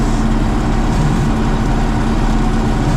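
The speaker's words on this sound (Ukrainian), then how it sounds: "Аж трактор труситься, бачите?" A T-150 tractor ploughing a field rumbles with a heavy, steady low engine drone and constant vibration, loud and close without any talk.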